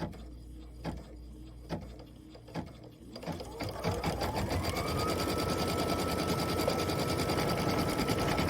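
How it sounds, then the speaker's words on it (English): Embroidery sewing machine stitching out letters on a quilt block: a few soft knocks at first, then a steady, loud, fast mechanical whirring with rapid needle rhythm that runs on without any talk. "I am going to finish stitching out the other 3 letters"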